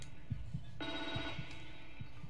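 Old telephone bell ringing in The Evil Within 2, a steady metallic trill starting partway through over a low rhythmic pulsing background, fairly loud and alone.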